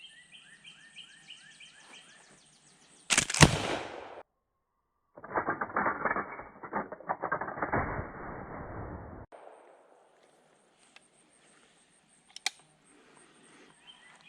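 An 1896 Marlin pump shotgun being worked with the trigger held, giving sharp metallic clacks and a rattling slide run, close and clear, separated by near-silent gaps with small clicks.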